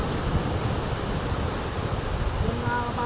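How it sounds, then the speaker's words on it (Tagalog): Ocean waves roll onto Lio Beach in El Nido, Palawan, making a steady, broad wash of surf that stays close and constant for the full stretch with no clear breaks. "Mga alon, good for surfing."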